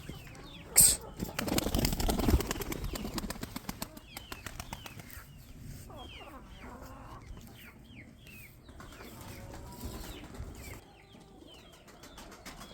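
A burst of wings flapping loudly as pigeons take off, followed by softer bird calls and distant chirping.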